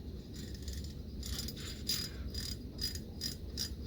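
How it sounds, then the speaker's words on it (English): A Zebco Bullet .38 vintage spincast fishing reel gives soft, rapid mechanical clicks from its drag, in short ratcheting bursts close by and quiet. "Still not making a very great drag sound"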